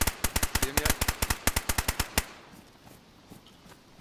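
Rapid burst of about sixteen loud, close gunshots from a DayZ firearm, fired in quick succession for two seconds, then a quiet tail of faint background ambience.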